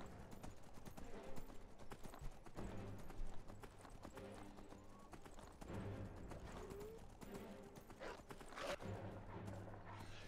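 Horse hooves clip-clop in the video game Skyrim, a run of quick irregular hoofbeats at moderate distance, with a brief whinny-like call and low game ambience, no talk over them.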